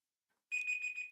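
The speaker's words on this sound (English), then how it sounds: "No, that's the alarm." A short electronic alarm bursts on abruptly with a bright, steady beeping tone that pulses a few times, clear and alone against silence.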